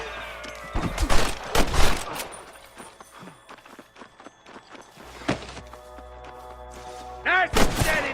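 Sniper fire in a video game, several sharp shots and bursts over footsteps and running, with loud blasts at the start and end and game noise between.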